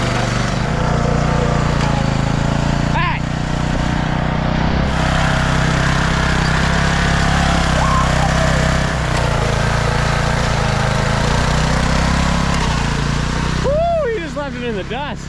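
Turbocharged lawn mower engine running loud and steady at high revs, droning continuously with a brief rising whine near the end.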